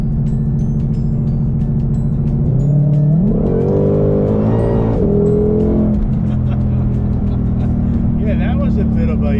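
A 2020 Ford GT500 with a JLT open-box air intake idles loudly, then revs up sharply around the middle and settles back to a steady idle, heard up close with voices talking over parts of it.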